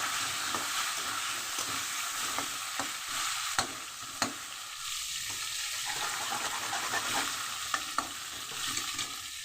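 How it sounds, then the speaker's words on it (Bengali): Cut potatoes fry in hot oil in a pan, a steady close sizzle broken by repeated scraping stirs and occasional clinks of the utensil against the pan. "আলুগুলোকে আমি বেশ করে লাল লাল করে ভেজে নেব"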